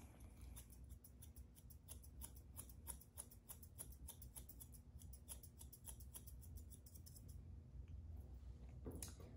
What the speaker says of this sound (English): So right now I'm just trimming around the ear